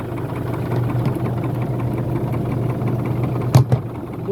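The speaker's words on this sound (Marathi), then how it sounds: "ट्रॅक्टर माउंटेड STP त्याच्यामार्फत आपण खत सोडत आहोत" A tractor engine runs steadily while powering a tractor-mounted fertilizer sprayer on a drumstick farm, a low continuous drone that holds level throughout, with a brief sharper knock or clatter near the end.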